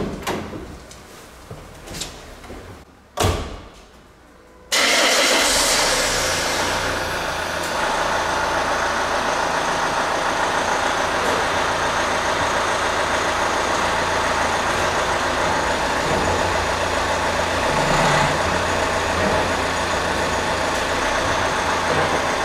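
A car engine idles steadily and loudly through a handbrake test during a DIY pre-inspection check, preceded by a few seconds of quieter knocks and a door-like thud before the constant drone sets in.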